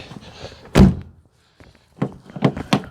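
A stiff door on an old Subaru rally car swings shut with one loud, solid thunk, followed by a few quieter knocks and rattles as it settles.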